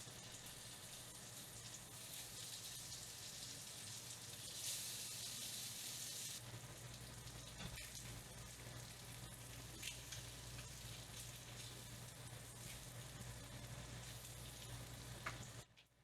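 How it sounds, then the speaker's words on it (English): Homemade pierogies sizzle in a skillet with butter and onion, a steady, fairly loud frying hiss with occasional pops and crackles that continues throughout before fading at the very end. "I'm just gonna put these in the skillet with some butter and some onion"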